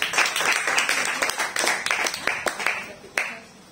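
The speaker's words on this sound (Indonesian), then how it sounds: "Mari berikan tepuk tangan buat Tuhan Yesus." A church congregation claps for Jesus, a lively burst of many hands with sharp individual claps standing out, close and loud before tapering off near the end.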